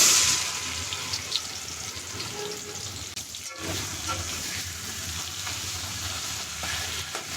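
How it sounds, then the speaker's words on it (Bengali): Sliced pointed gourd fries in hot oil in a pan, giving a steady broadband sizzle that holds without pause from start to finish, close and fairly loud, with occasional small pops and no voices. "একদিকে আমার পটল ভাজা হচ্ছে"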